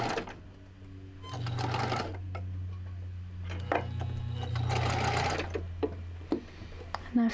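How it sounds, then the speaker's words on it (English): A sewing machine stitches a short French seam in fabric, with rapid mechanical clattering in several short bursts separated by pauses and a low motor hum throughout. "we're just gonna do a very short French seam here."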